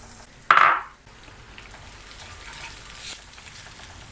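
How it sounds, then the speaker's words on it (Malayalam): Grated coconut roasting with curry leaves, dried red chillies and onion in a clay pot, opening with a sharp loud sizzle burst that fades into a steady, softer frying hiss with faint stirring. "ഈ തേങ്ങ നമുക്കൊരു ഗോൾഡൻ ബ്രൗൺ കളർ ആകുന്നിടം വരെ ഒന്ന് വറക്കണം"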